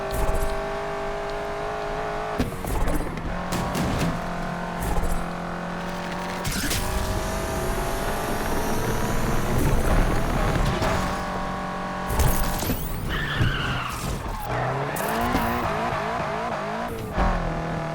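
A Subaru BRZ tears through a race in the Need for Speed Unbound video game, its engine roaring steadily for the whole stretch. Gear shifts, revving surges and repeated tire squeals cut through, with no talking.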